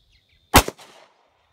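A single sharp report from a Glock 43 pistol rings out close by in otherwise quiet surroundings, followed by a brief decaying echo.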